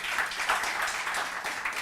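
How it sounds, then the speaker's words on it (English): An audience at a literature and art festival in Bhopal applauds a speaker and moderator, giving a short burst of dense, steady clapping that fills the hall. "give a huge round of applause to our speaker and moderator"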